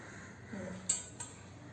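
Two small brass bowls for serving curry clink briefly against each other or a surface, two quick faint metallic taps in an otherwise quiet room.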